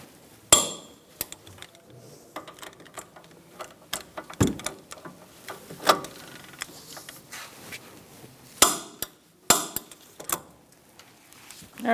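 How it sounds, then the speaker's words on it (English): Torque wrench tightening brake caliper bolts on a 2010-2013 Kia Soul, close metallic clinks and sharp ratchet clicks in irregular bursts with quieter handling noise between. "we're going to snug these up and then torque them to 60 foot-pounds"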